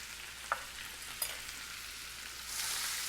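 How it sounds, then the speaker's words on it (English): Ginger and green onion hit hot oil in a pan, giving a faint, steady sizzle with a couple of sharp pops early on and a brighter, louder hiss of frying near the end. "So the oil is nice and hot, and I'm going to add the ginger."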